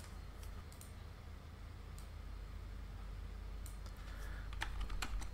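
Keys tapped on a computer keyboard, a few isolated keystrokes early on and then a quicker burst of clicks toward the end, close and fairly crisp over a steady low hiss.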